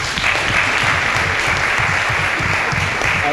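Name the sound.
audience applause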